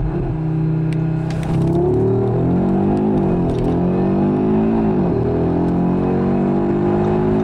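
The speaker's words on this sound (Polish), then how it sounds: "RS3 przyspiesza do setki jeszcze szybciej" A 2022 Audi RS3 with the 2.5 TFSI five-cylinder pulls hard under full acceleration, loud and close, its engine note climbing steadily through the gears with brief dips at each shift.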